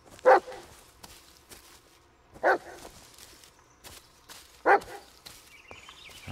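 Dog in the Blair Witch video game barking three times, evenly spaced about two seconds apart, clear and fairly close over quiet background.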